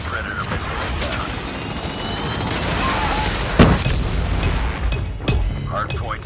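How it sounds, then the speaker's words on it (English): Call of Duty Mobile match audio during a Predator missile strike: sustained dense gunfire and blasts with a sharp boom near the middle, under in-game announcer voice callouts. "Friendly Predator missile inbound."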